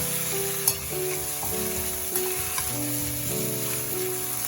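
Potato, ridge gourd and pumpkin pieces fry in a pan for a Bengali marich jol, with a continuous close sizzle, occasional stirring clicks and no speech.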